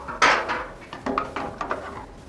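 A metal Uzi submachine gun bolt is handled during disassembly, giving a close clack followed by several lighter metallic knocks and scrapes.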